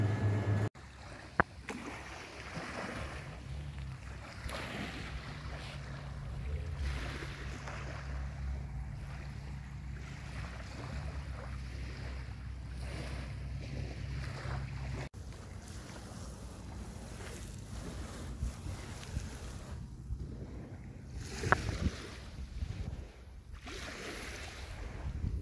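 Morning waves at a beach, a steady low wash of surf mixed with wind buffeting the microphone, fairly faint and continuous with no voices.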